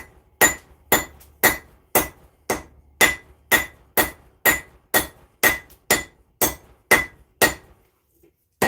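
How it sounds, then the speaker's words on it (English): Steady series of about fourteen loud, ringing hammer blows falling at an even rhythm on a hot blade being forged into a crescent shape for a mini Zangetsu sword, each strike sharp and metallic with a short decay, no talking. "I've got to be quite accurate with my hammer blows right now because a miss hit would kind of suck."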